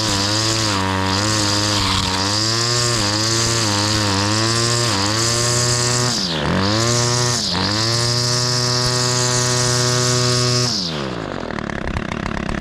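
A Ryobi SS30 two-stroke weed trimmer runs close and loud after a carburetor replacement, its buzzing engine surging and dipping as the throttle is blipped, then dropping toward idle at the end.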